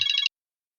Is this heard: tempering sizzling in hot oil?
no